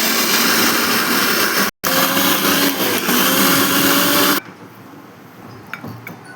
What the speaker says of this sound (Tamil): இப்போ அரைக்க போகிறேன்.